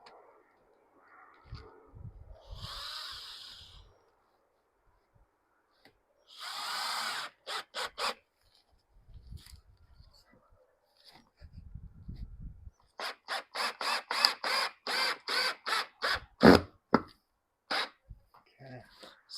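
A power drill drives screws through a cut board into a wall stud during new door work in an old mobile home, with short whirring bursts and a longer run of rapid pulses, among pauses and quiet voices.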